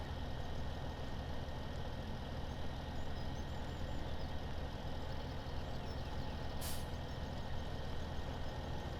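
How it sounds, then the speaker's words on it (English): A tractor engine in the video game Farming Simulator 17 runs at a steady, heavy low drone, sustained and even throughout with little change, and a brief hiss near the end. "I'm going to use the hand throttle, just bump that up a little bit."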